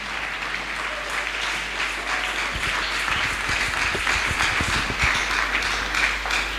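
A church congregation applauds Jesus, sustained dense clapping from many hands in a reverberant hall, growing slightly louder toward the end.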